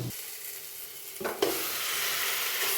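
About 1.5 kg of chicken being stirred into masala for biryani: a gentle sizzle, a scrape and clatter of stirring, then a louder, fuller frying hiss that continues steadily.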